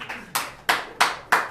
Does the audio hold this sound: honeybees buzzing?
no